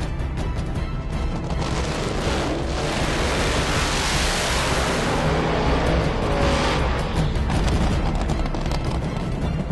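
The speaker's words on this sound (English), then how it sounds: "this is Dave Wilson and his A-Fuel Dragster" A nitro-burning A-Fuel dragster without a supercharger roars at full run, a loud, dense, continuous blast of engine noise rising and falling over nearly ten seconds.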